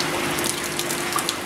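Water sprays steadily onto aquaponic filter pads, a loud continuous hissing gush with no pauses or voices.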